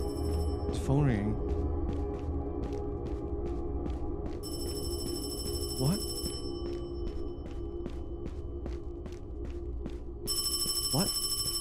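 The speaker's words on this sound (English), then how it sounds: "It's phone ringing." A phone ringing in the horror video game Paranormal Hong Kong, repeated electronic ring pulses in a steady rhythm over a low ambient drone, with a few swooping effects and a voice talking now and then.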